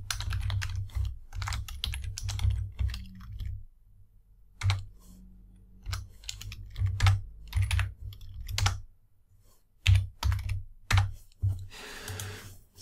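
Close, clicky keystrokes on a computer keyboard as Java code is written, coming in irregular bursts and short runs with quiet gaps between, no voices.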